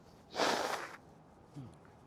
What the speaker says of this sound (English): Let me just blow my nose here